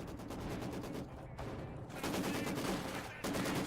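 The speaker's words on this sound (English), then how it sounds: "Maxim machine gun getting a suppression going on those Grens" A Maxim machine gun fires in Company of Heroes 2 with rapid, continuous bursts under dense distant battle noise, quiet overall and without pause.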